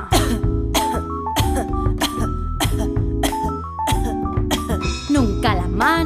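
Rhythmic coughing sounds punctuate a bouncy children's song about sneezing and coughing, repeated in time with the music and accompanied by bright chimes.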